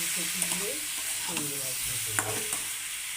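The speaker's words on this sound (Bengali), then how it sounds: "ফুলকপি আলু ভেজে নিয়ে তারপরে মশলাটা কষিয়ে নিয়ে ওই মধ্যে দিয়ে দিলাম আলু আর ফুলকপি এবার এটা ভালো করে কষবে" Cauliflower, potato and prawns fry with spices in a pan, a steady close sizzle with stirring scrapes, and a faint voice murmuring in the background.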